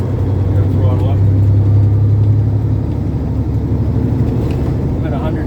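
A truck with a 460 engine pulls along the highway with no load, giving a loud, steady low drone and rumble that holds constant with no break throughout.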